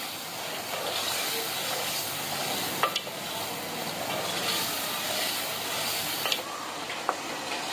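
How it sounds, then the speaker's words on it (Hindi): Potato and egg curry gravy with yogurt fries in a pan, giving a soft, steady sizzle with stirring scrapes and a few sharp utensil clinks, no talking. "आधी कटोरी दही है वो भी डालेंगे इसमें। अब इसे हम 3 से 4 मिनट के लिए भून लेंगे।"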